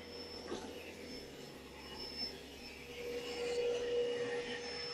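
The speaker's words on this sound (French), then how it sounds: "Puissance d'aspiration à fond." A robot vacuum cleaner runs at full suction power with its mop pads lifted, clearing a dust pile in a room corner: a steady, fairly quiet whooshing hum with a faint high whine that swells slightly toward the end.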